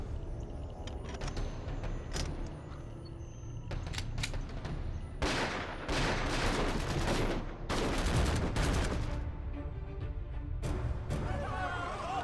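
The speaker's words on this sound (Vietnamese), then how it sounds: "Nổ súng." Gunfire in a Vietnamese anti-Japanese war action drama: scattered shots and bursts of rifle fire over a continuous rumbling background, growing denser with several loud volleys midway, fairly distant and muffled.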